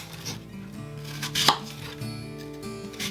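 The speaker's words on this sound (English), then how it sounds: "I'm peeling, coring, and chopping up 8 pounds of the Granny Smith apples" A knife chops Granny Smith apples on a cutting board for caramel apple butter, steady close rhythmic thuds with one louder strike, with faint music playing beneath.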